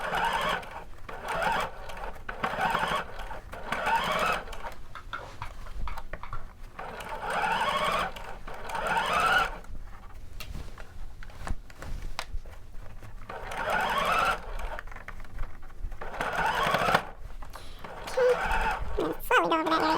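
A sewing machine stitches a shorts seam in a series of short bursts separated by pauses, the motor whirring up and stopping repeatedly close by.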